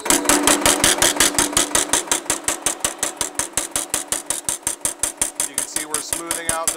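A Baileigh MH-1 variable-speed power hammer works 16-gauge mild steel, pounding in a fast, even stream of loud sharp metallic blows, close up, with the rhythm slowing slightly toward the end.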